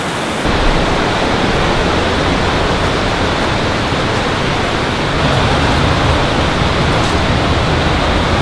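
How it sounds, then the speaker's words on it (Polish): Water pours down from the left at a deep gorge in rural Japan, a loud, constant roar of rushing water that fills the whole stretch with no voices. "Tutaj woda leje się z lewej strony, tam dalej."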